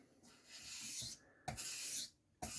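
A Puma Inox knife bevel is worked on a heavy grit sharpening stone in close, gritty rubbing strokes, each about a second long with brief pauses between, quiet, and no talk.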